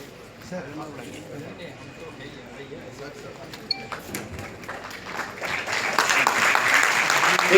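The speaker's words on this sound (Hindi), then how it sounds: "एक बार जोरदार तालियों से" An audience at a student guidance event starts clapping, rising from a low murmur of voices and scattered claps into a fuller round of applause that swells toward the end.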